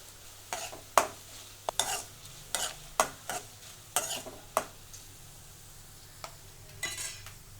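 Asafoetida is stirred into hot oil for Kerala mango pickle, with a soft sizzle under a string of sharp, irregular scraping and clinking strokes of the spoon against the pan.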